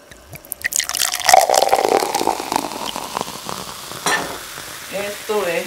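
Wine poured into a pot of lamb stew hits the hot base with a loud burst of sizzling and bubbling that gradually settles into a gentler simmer.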